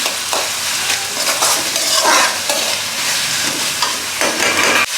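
Puri upma seasoning fries in a hot pan, a loud continuous sizzle with crackles and the scrape of a spoon stirring through it repeatedly, close and without talk.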